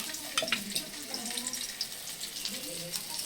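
Spiced bangude (mackerel) fish frying in boiling oil, a steady close, hissing sizzle with crackling pops throughout, alongside faint background voices.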